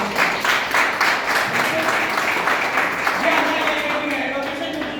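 An audience at a business meeting breaks into loud, steady applause with dense clapping throughout, while a voice speaks over it.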